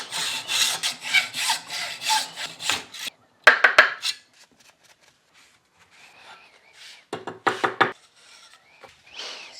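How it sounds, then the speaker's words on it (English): A regular hacksaw cuts through a carbon fiber bicycle part in a few quick strokes, then pauses and adds a short second burst of sawing, close and fairly loud. "In my experience, a regular hacksaw works fine."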